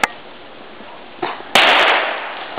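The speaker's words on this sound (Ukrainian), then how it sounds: "Зараз буде граната." A grenade goes off outdoors during a field shoot: a sharp pop comes first, then a small burst, then a loud, bright blast that fades out over about a second.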